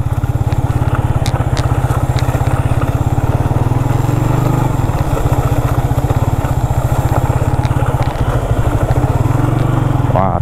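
A motorcycle rides along a slippery, muddy road at the Lapindo mud site in Sidoarjo, its close, loud engine chugging in a steady rapid pulse throughout, with small shifts in pitch as the throttle changes.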